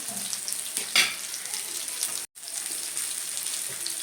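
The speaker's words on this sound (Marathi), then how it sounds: "खालच्या बाजूने मच्छी ही छान अशी तळी गेलेली आहे तर आपण पलटी करून घेऊया" Rani fish (pink perch) frying in hot oil in a pan, a steady close, loud sizzle with a scraping flip near the start and a brief drop-out midway, no one talking.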